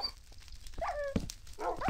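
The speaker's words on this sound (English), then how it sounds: "Oh, get out of the fire, you stupid dog." A dog whimpers and yips beside a fire in the Minecraft video game, several short high whines and a soft bark over quiet game ambience.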